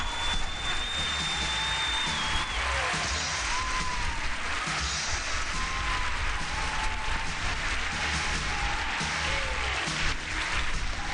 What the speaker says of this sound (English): hearing applause and seeing no one moving